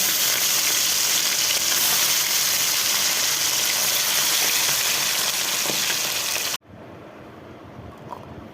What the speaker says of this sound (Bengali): তেলটা গরম হয়ে গেছে, মাছগুলো মিশিয়ে দিচ্ছি।